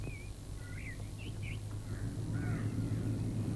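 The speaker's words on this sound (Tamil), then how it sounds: "காக்கா!" A crow caws in a few short, rising calls, fairly faint and somewhat distant above a steady low hum and background noise.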